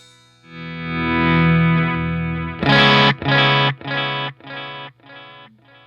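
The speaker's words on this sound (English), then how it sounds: "Hear a lot more modulation there." A held synth-like note wavers and warbles, then a series of chopped repeats fade out one after another: a UAD Starlight tape echo with heavy modulation, trailing away.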